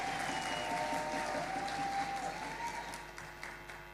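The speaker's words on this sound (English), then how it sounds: "Warm round of applause." An audience at an ICT summit gives sustained applause, a dense, even patter of many hands that fades slightly toward the end, with a faint tonal hum running beneath.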